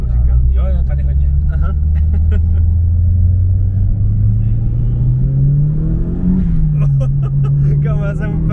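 A car accelerates hard, its engine revving in a rising drone that climbs steadily before shifting down and building again, heard from inside the cabin while people talk over it.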